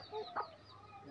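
A chicken clucks in two short, fairly faint bursts, with low background noise between them.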